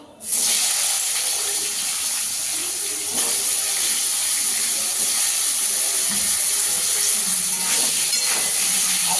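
Cut potatoes dropped into hot oil tempered with black cumin for a fish curry, bursting into a loud, sudden sizzle that settles into a steady, close, roaring hiss.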